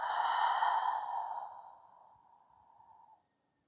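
A long, slow exhale during a beginner vinyasa yoga cooldown, breathy and soft, starting fuller and trailing off gently over about three seconds before silence, with faint airy whistle-like overtones and no talking.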